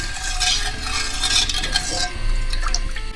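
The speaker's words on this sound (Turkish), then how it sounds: "Şöyle hafif hafif karıştıralım." A spoon scrapes and swishes around inside a pot of sugar and water for syrup, soft repeated stirring strokes up close with faint liquid sloshing.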